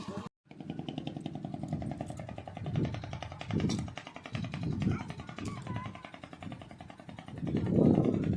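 A motorized trawler boat engine chugs with rapid rhythmic thumping, growing louder in surges as it approaches, with faint voices in the background.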